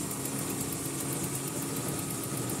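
An engine running with the car's air conditioner compressor engaged gives a steady, close, unbroken hum and whir, even in level throughout.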